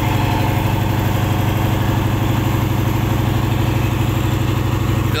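A large engine, rated at over 400, drives a sand dredging boat at a sand pit in Chumphon district, Surin province, Thailand, a loud, steady, close-up diesel drone with a fast, even rhythmic throb that never lets up.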